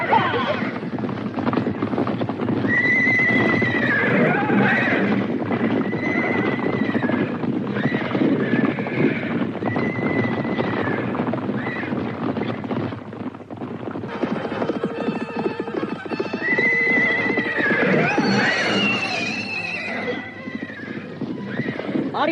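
Many horses gallop in a dense, continuous drumming of hooves, with repeated loud neighs and whinnies rising above the rumble throughout.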